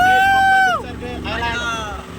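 A motorboat carries riders at Kovalam boat house, its steady engine rumble and water noise running beneath people talking.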